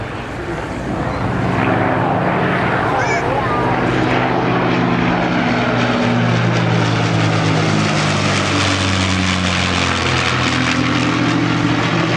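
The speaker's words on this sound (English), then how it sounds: "engines in formation there, 4 attached to a bomber and 1 in the nose of that mighty Spitfire" Piston engines of a four-engine bomber and a Spitfire flying in formation at the Southport Airshow swell into a loud, sustained propeller drone that passes overhead, with an announcer talking over it.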